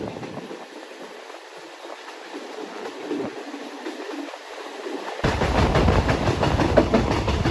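Passenger train 445 rolls between Lang Suan and Surat Thani in Thailand toward Khlong Khanan station, heard from aboard as a steady rumble with rhythmic clickety-clack that grows suddenly louder and fuller near the end.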